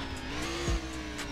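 A matte black Lamborghini Sesto Elemento revs in the Pacifico 2 video game, a single short engine blip swelling briefly over a steady background hum.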